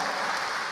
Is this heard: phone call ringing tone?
no